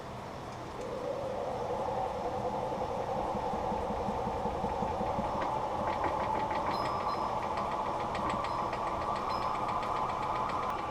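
Wood lathe turning a live-edge black poplar blank held with tailstock support, a steady loud mechanical hum and rumble running continuously up close, with faint higher whine tones joining partway through and no talking.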